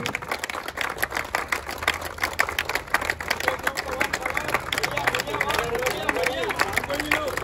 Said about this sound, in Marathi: खूप जोरात टाळ्या वाजवायच्या मंगेशसाठी.